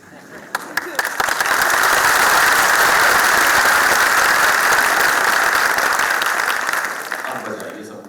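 A full audience at a Delhi Technological University poetry tribute for martyrs breaks into loud, dense applause that builds quickly, holds steady for several seconds, then tapers off.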